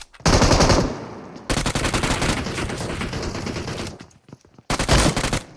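Machine gun fire in a video game comes close and loud in long rapid automatic bursts, a short burst, then a sustained stretch of rattling fire, a brief gap and a final burst.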